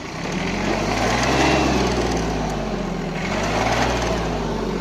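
A tractor pulling a Mateng NEFL 95 mulcher in four-wheel drive, its engine droning loudly and steadily up close with a whirring mechanical hum and slight shifts in pitch as it pushes forward.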